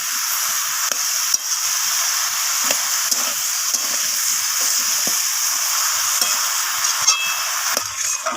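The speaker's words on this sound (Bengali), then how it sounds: "তো দেখুন এখানে আমি বেশ কিছুক্ষণ সময় নিয়ে এটাকে কষিয়ে নিয়েছি" Chunks of bottle gourd fry in a pan with a loud, continuous hiss of sizzling. Scattered scraping clicks from stirring run through it, with no talk.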